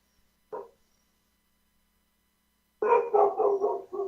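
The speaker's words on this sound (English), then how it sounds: "The dog is barking." A dog barks indoors during a live call, one short bark and then, after a pause, a quick run of several rough barks, moderately loud and close.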